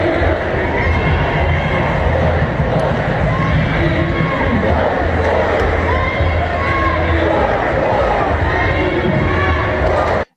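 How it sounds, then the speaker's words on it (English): A protest crowd chants on a Portland street, with the Wall of Moms lined up in front of a fence. The roar of many voices is dense and continuous, sustained and loud throughout. "You can kind of hear that overall chant going on in the background."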